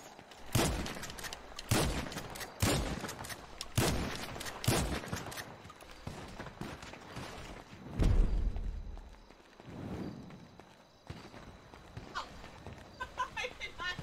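Guns fire in a GTA 5 team deathmatch as bursts of sharp shots, some in quick runs and others spaced out, with a heavy blast near the middle and someone talking over parts of it.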